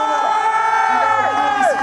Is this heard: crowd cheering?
yes